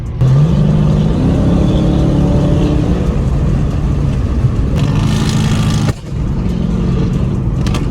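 A Dodge Charger Scat Pack with a resonator delete revs its engine, producing a loud, continuous exhaust drone whose pitch rises and dips, with a brief drop near the end and no talking over it.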